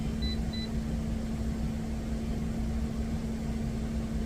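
Two short high beeps from an oven control panel being set to temperature and timer inside a truck, over a steady engine-like hum.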